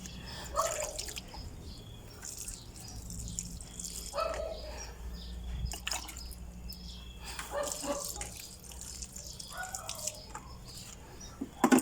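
Water dripping from a freshly watered potted plant into a tray beneath, scattered soft drips spaced irregularly over a quiet background with faint birdsong and occasional faint voices.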